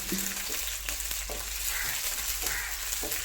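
Onions and cashews fry in hot ghee with a steady, close sizzle and crackle, a few faint stirring knocks breaking through the constant hiss, no voices.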